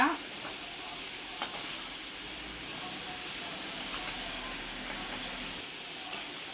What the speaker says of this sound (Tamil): இப்போ நல்லா கிளறி விட்டுக்கிட்டே இருங்க. எல்லா பக்கமும் நல்லா வெந்து மொறுமொறுன்னு வரும்.